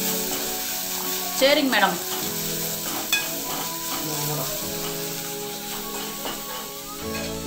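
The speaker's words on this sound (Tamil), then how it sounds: "இப்போ வந்து கொஞ்சமாக இஞ்சி பூண்டு போட்டுட்டு நல்லா வதக்கிக்கலாம்." Ginger and garlic sauté in hot oil in a pan, giving a steady, close sizzle throughout with a few louder spatters and stirring scrapes; someone speaks briefly over the frying.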